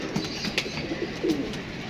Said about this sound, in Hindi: पता चला हमने मार दिया कबूतर खैर हमने उड़ा दिए